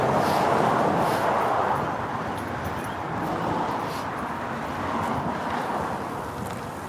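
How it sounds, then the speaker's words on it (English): Road traffic runs loudly past a parking lot, a continuous broadband roar with wind-like hiss that stays strong and fairly constant, with no voices. "We're going to move back because the traffic is kind of loud."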